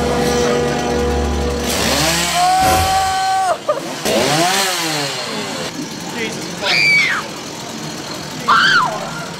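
A chainsaw revving loudly at a haunted farm attraction during a Halloween scare event, rising and falling in sweeping bursts up close, with screams and shouting over it.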